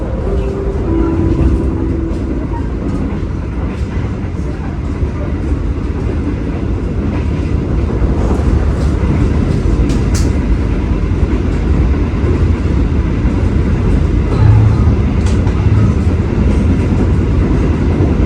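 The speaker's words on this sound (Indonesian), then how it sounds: "Sesaat lagi kereta api Gaya Baru Malam Selatan akan tiba dan berhenti di stasiun Madiun." Gaya Baru Malam Selatan passenger train running on rails near Madiun station, a steady loud rumble with rhythmic clickety-clack of wheels over rail joints throughout, plus brief tonal squeals early on.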